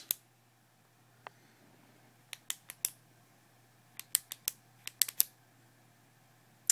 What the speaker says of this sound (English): if you go here and you click it, the ink retracts